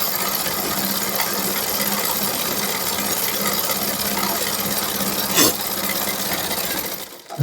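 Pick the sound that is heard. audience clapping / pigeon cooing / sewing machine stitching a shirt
sewing machine stitching a shirt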